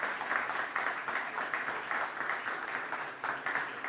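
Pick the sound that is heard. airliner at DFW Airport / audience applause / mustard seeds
audience applause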